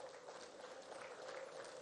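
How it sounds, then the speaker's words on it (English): An audience claps steadily at an outdoor groundbreaking ceremony for five mini LNG plants in Kogi State, Nigeria, with soft, even applause from a crowd heard at a distance. "I want you to join me and give a hand of applause to them"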